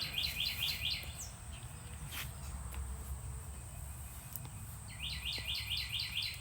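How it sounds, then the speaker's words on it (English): Birds chirping nearby in rapid, high, repeated trills that burst out at the start, fall away, and return near the end over a faint steady background, with no talking. "Got the birds chirping along with us."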